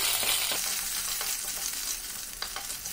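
Ginger sizzles in hot oil in a pan for an okra curry, a close steady frying hiss broken by several sharp spatula scrapes as it is stirred.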